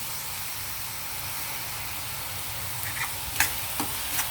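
Shrimp frying together with onions in a pan, a continuous steady sizzle throughout with a few sharper crackles and spits toward the end, close and even, with no voices.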